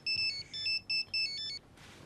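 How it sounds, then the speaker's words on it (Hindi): A mobile phone ringtone for an incoming call plays as a loud, close electronic melody in several short bursts over about a second and a half, then stops. "लो, डैड का नाम लिया और मामा का फोन आ गया।"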